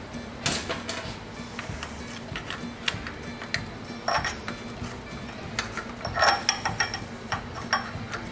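A wrench works a bolt on a vintage Wisconsin engine, giving sparse, close metallic clicks and ratcheting ticks at irregular intervals over a quiet background.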